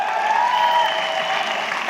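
A business seminar audience on direct selling claps in an even, moderate wash that holds for the whole stretch, with a faint tonal sound running underneath.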